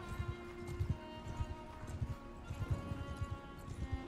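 Horses' hooves clip-clop steadily in the medieval video game Mount and Blade 2 Bannerlord, a rapid rhythmic patter of many light hoofbeats over soft in-game background music, with no talking.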